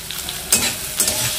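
Potatoes and onions frying in a pan, a loud close sizzle with two bursts of crackling as the spatula turns them, no speech.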